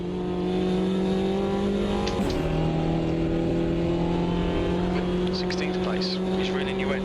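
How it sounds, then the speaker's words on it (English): Race car engine at the 1988 Hockenheim circuit in a sim racing league, sounding unhealthy, a sustained buzzing drone with a gear-change dip and a voice talking over it. "my car does not sound in the best of health"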